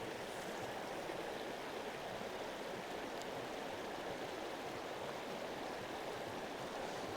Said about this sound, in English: This is a small creek, but it made it really fun.